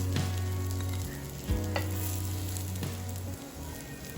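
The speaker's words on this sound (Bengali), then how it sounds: "লো টু মিডিয়াম ফ্লেমে আস্তে আস্তে ভেজে নেবো এবার" Kebabs fry slowly in oil on a hot tawa over a low to medium flame, giving a steady close sizzle with a few sharp clinks and shifts as pieces are moved.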